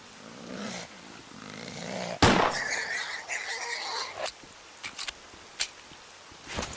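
A cat-like mutant creature in S.T.A.L.K.E.R.: Call of Pripyat, in Lab X-8, lets out a sudden, loud, shrill squeal after a low growling rumble, followed by a few shorter sharp cries.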